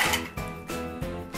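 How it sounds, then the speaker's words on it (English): Ice cubes tumble into a metal cocktail shaker for a cosmopolitan, giving three sharp clattering drops about a third of a second apart, close and fairly loud with bright rattling tails. "and then I'm gonna put my ice in."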